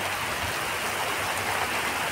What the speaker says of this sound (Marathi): लय जोरात पाऊस आलाय